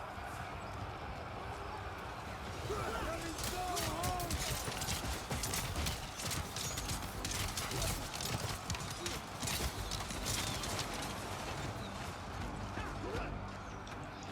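Cavalry horses charge across the field in the video game Total War: Pharaoh, a sustained rumble of many hooves clip-clopping together with an occasional whinny, with someone talking over the gallop.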